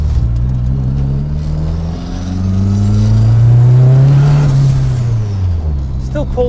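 Engine-swapped Vauxhall Viva VXR accelerating, a loud engine drone heard from inside a car with no sound deadening as its pitch climbs and then falls back, ending with a short voice.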